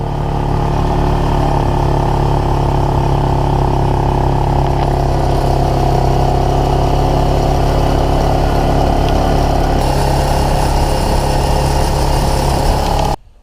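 A quad bike engine runs steadily as it drives slowly through a wheat field, a continuous close mid-pitched drone that cuts off abruptly at the end.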